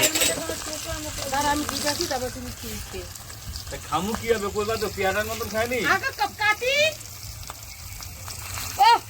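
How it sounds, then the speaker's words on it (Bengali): Fish frying in a pan at a family get-together, a constant crackling sizzle running beneath lively overlapping conversation. "এখানে মাছ ভাজা চলছে"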